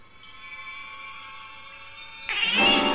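Cat meowing in The Last Door horror video game, trapped near a boiler, a faint drawn-out meow that swells into a louder, sharper cry at the end, alone with no talking.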